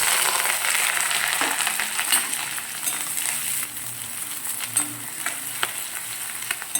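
Onions, curry leaves, cinnamon, cloves and cardamom frying in hot oil for vegetable kurma make a loud, steady crackling sizzle with faint stirring scrapes, close and continuous.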